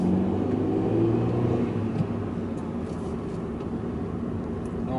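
A 2015 Hyundai i20 1.2-litre 84 hp engine hums low and steady inside the moving car, with road rumble and a faint whine, fairly quiet throughout.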